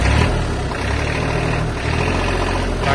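A Kubota L1-215 mini tractor with a front loader runs its engine steadily under the throttle, giving a loud, close, continuous low rumble with slight surges and no talking.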